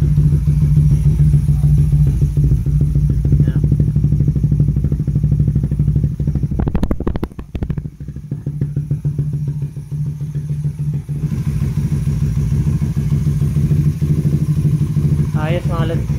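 Suzuki Raider 150 Fi motorcycle fitted with a Red Leo power pipe, its engine idling and revving loudly up close with a steady throbbing exhaust, briefly dropping mid-way before resuming; faint voices in the background.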